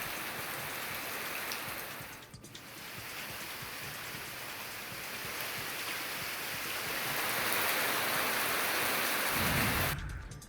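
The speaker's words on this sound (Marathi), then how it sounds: "सकाळपासून पावसाला पुन्हा सुरुवात झाली आहे" Steady unseasonal rain pours down continuously in Dapoli, Ratnagiri district, a dense hiss of drops on surfaces with a brief dip partway through and a heavier burst near the end.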